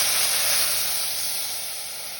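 Tamarind milk is poured into a hot pan of sautéed onions, setting off a loud close burst of steamy hissing sizzle that slowly fades over a couple of seconds.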